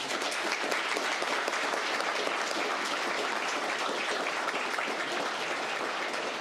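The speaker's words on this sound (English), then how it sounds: "let's give him a round of applause" An audience at an Army ROTC spring commissioning ceremony at Florida Tech breaks into applause, a thick, continuous roar of many hands clapping at once, steady and moderately loud with no pauses.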